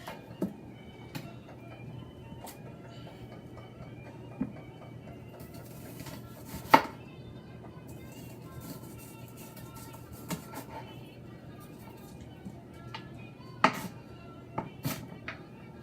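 A small onion is cut in half on a cutting board, giving a few sparse, sharp knife taps and clicks against a quiet kitchen background, with no talking.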